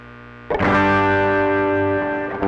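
Electric guitar played through a Valeton GP200 multi-effects preset with heavy distortion: a loud sustained chord rings out after a brief quiet hum, then slowly decays with a faint noise floor.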